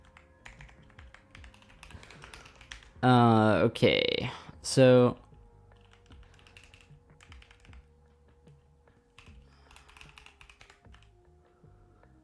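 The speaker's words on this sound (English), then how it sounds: "It's been a while since I've used the keyboard." Fingers tapping on a computer keyboard, quick irregular clicks and taps scattered across the stretch, close and fairly soft, with a short burst of talk in the middle.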